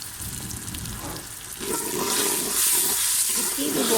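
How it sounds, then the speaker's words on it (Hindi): Garlic ginger paste sizzles in hot oil with a steady hissing, spattering fry that swells louder midway and holds, close and continuous, while someone talks over it. "साथ ही इसमें हम डालेंगे लहसुन अदरक का पेस्ट।"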